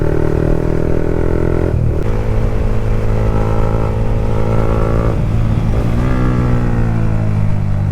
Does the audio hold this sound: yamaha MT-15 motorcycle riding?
yes